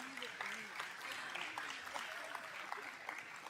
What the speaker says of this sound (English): let's give them another big round of applause as she's leaving.